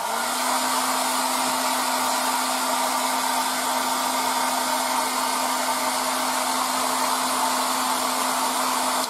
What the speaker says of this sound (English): Now, as you can see, I can use again the air dryer.